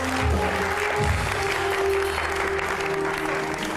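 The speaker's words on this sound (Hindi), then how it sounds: "ये लीजिए, बहुत सारी तालियां जी" Studio audience applause on a Hindi entertainment show, a steady dense wash of clapping lasting several seconds at moderate loudness, with a sustained tone running underneath and no talk over it.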